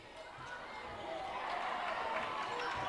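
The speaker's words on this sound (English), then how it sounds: "You can hear the crowd for Littlestown getting a little loud." Student crowd at a Littlestown high school basketball game, a steady broad roar of many voices rising slightly louder over a few seconds, with no distinct talk on top.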